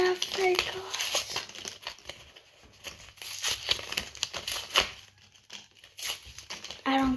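Fake Pokemon cards being torn apart, with rough crinkling and ripping bursts scattered across the stretch, close by, while someone talks throughout.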